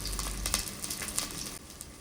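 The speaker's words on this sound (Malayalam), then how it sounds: "എണ്ണ ചൂടായി വരുമ്പോഴേക്കും അതിലേക്ക് ചെറുതായിട്ട് അരിഞ്ഞു വെച്ചിരിക്കുന്ന ചെറിയ ഉള്ളി, ഇതൊരു 10 ചെറിയ ഉള്ളി ഉണ്ട്, പിന്നെ ചെറിയൊരു കഷ്ണം ഇഞ്ചി, 2 പച്ചമുളക് ചേർത്ത് കൊടുക്കാം" Chopped shallots, ginger and green chilies sizzle in hot oil for a Kerala bitter gourd theeyal, a steady close crackle with a few brighter pops and a brief stirring scrape, no talk.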